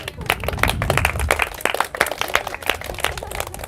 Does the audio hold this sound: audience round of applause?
yes